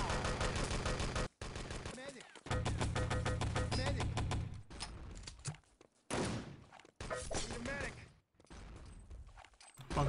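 Rapid bursts of automatic gunfire and single shots in the online shooter Enemy Territory during a competitive match, loud and close, broken by short pauses, with a commentator talking over it.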